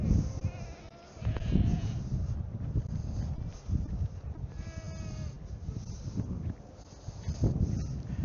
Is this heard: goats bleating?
yes